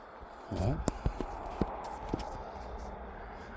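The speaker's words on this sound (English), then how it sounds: "Hear the footsteps?" Sharp, irregular footfalls or twig snaps in Montana woods at night, a handful of distinct impacts spread over a few seconds, close by, with a brief low rumbling sweep early on and a quiet hiss behind.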